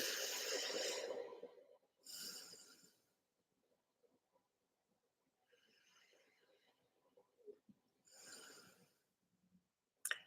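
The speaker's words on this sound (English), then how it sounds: "we'll start like we always do, taking some deep breaths" Slow deep breaths in and out, each long airy exhale separated by quiet pauses, soft and close with faint room noise between.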